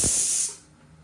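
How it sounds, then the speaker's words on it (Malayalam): A sharp burst of steam hissing from a pressure cooker cooking beef, loud at first and quickly fading to quiet. "ഇതിപ്പോൾ എട്ട് വിസിലടിച്ചിട്ടുണ്ട് നമ്മുടെ കുക്കർ"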